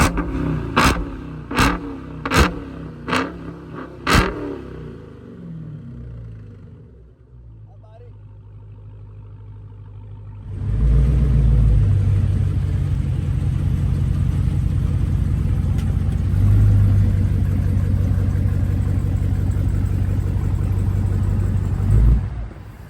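A modified Dodge Hellcat comes to life after a few sharp clicks and a quiet pause, then its exhaust settles into a loud, sustained, heavy roar with pulsing surges that fill the rest of the clip.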